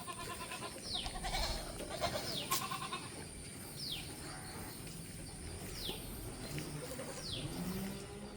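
Several Sirohi goats, does about seven months old with kids, bleat in a few short calls spread across a quiet farm setting, moderately near, with faint birdsong and background hum.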